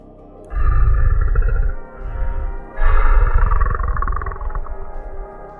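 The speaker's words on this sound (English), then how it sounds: "Low and wet, raspy on the exhale. A large animal trying to keep quiet." A large animal's low, wet, raspy breathing, made as a horror story sound effect, comes in several long drawn breaths that swell and fade, loud and close, with no talking.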